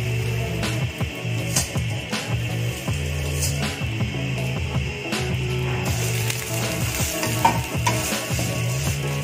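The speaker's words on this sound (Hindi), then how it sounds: "ये हमने फ्राई करना है इसी देसी घी में।" Vermicelli frying in desi ghee for sheer khurma, a steady close sizzle with repeated scraping stirs of a spoon through the pan, no voices.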